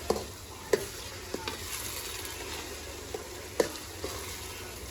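Onions and tomatoes fry in a pan for a Gujarati brinjal bharta (ringan no oro), with a steady soft sizzle under occasional sharp scrapes and clinks of a spoon stirring, close and fairly quiet, no talk.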